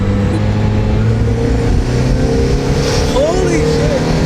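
A Mazda Miata in right-hand drive accelerates hard, its engine note rising with a loud, sustained low growl from inside the car.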